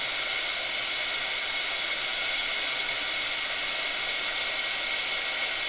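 A heat gun blows steadily to melt embossing powder, a constant loud hissing whoosh with a high whine, unbroken throughout and with no voices.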